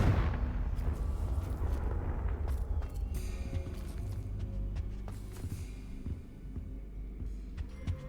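Booming Confringo fire-spell blasts from a Hogwarts Legacy-style PS5 game, heavy rumbling explosions rolling continuously with crackling debris and scattered impacts throughout, loud and dense with no talk.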